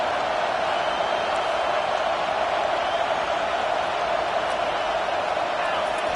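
Broadband crowd roar from a packed college football stadium fills the whole stretch, steady and loud, as fans try to keep the opposing offense pinned deep in its own end.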